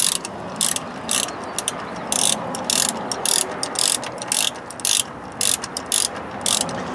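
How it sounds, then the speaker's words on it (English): Ratchet clicking in repeated bursts while tightening aluminum oil pan bolts underneath a 2001 Mercedes E320, close and fairly loud over a steady background hiss, with short pauses between strokes. "when tightening things like this, you want to go tight, but you don't want to go like Superman"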